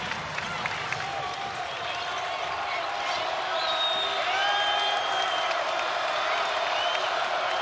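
Crowd noise swells in a college basketball arena during a San Francisco versus Oregon State game after a made free throw, a dense wash of cheering and whoops that grows louder midway and holds steady, with a few scattered ball bounces and faint voices underneath.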